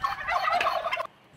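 A turkey gobbles in a rapid, warbling burst lasting about a second, close and fairly loud, then falls quiet.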